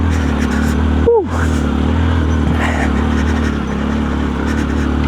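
A motorcycle engine drones steadily close by while climbing a rough mountain trail, a continuous mid-pitched hum with a short dip and a few light revs, and a voice briefly heard over it.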